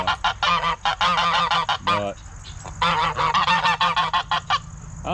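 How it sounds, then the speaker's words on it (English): Farm geese honk loudly and repeatedly up close in rapid bursts, with a short pause midway before the raucous honking resumes; a voice briefly speaks once. "I like the geese. They're pretty."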